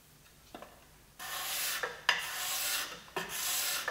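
A freshly sharpened steel scraper blade scrapes across wood in three long raspy strokes, each starting with a sharp catch, after a few light taps, up close and with no voices.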